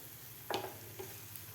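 Halwa being sautéed in an open pan without a lid for black chana halwa prasad, a soft, steady sizzle with a couple of brief stirring scrapes near the start and middle, quiet and close.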